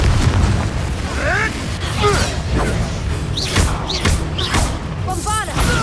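Confringo spell blasts in the wizarding action game Hogwarts Legacy, a run of loud thumping explosions and bursts over dense low rumble, mixed with swooping whistling spell effects and combat voices.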